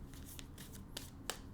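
Soft papery riffling of tarot cards being shuffled in a few quick bursts, close and quiet with no one speaking.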